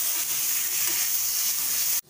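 Onions and chopped capsicum fry in a pan over a low flame for green pav bhaji, giving off a steady, close hiss of sizzling that stops abruptly near the end.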